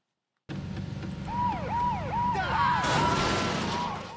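An ambulance siren in the video game Saints Row: Gat out of Hell wails up and down in rising and falling sweeps over a vehicle engine, loud and close, then changes to a harsher tone near the end.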